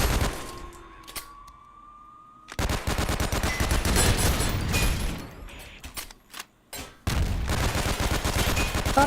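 Handgun fire in a video game comes in loud, rapid strings of shots broken by short pauses, with a quieter stretch near the start before the shooting begins.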